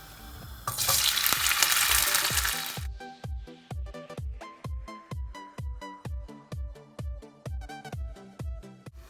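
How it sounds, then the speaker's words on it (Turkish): Okra frying in olive oil in a covered pan: a loud hiss of frying bursts out for about two seconds, then gives way to quieter, steady rhythmic pulses. "Bu kadar zeytinyağı koydum ve şimdi kızartmaya başlıyoruz."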